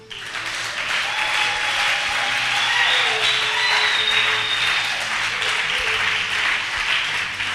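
A church congregation applauding in praise, a dense, sustained wash of many hands clapping together that swells and holds for several seconds, with faint voices mixed in.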